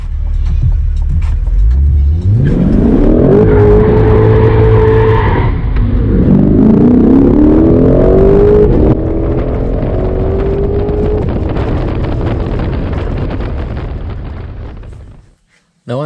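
A Chevrolet Corvette C8 Stingray convertible accelerates hard along a windy canyon road in Malibu, its engine roaring loudly and climbing in pitch through gear changes before fading near the end, with no voices.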